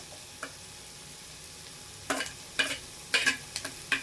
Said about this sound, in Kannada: ಜಸ್ಟ್ ಸ್ವಲ್ಪ ಫ್ರೈ ರೀ ಈಗ ನೋಡ್ರಿ ಶುಂಠಿ ಹಾಕೊಳಕತ್ತೀನಿ ರೀ ಜಜ್ಜಿಗೆ ರೀ